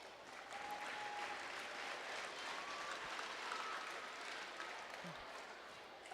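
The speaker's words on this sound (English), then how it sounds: "one more big round of applause for our tournament director and host" Steady crowd applause at a basketball tournament opening ceremony, a continuous even wash of many hands clapping in a gym, faint and distant, sustained for several seconds.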